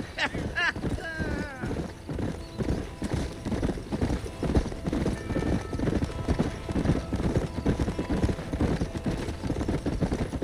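Horse hooves clip-clop at a steady rhythm in the Western game Red Dead Redemption, loud and close, with a brief whinny near the start, running continuously under characters' speech.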